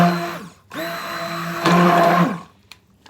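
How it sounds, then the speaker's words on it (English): An electric stick blender whirs loudly in soap batter in two steady bursts separated by a short pause, rising in pitch partway through before cutting off. "And Melanie, this is the new stick blender, just so you know, the bottom button."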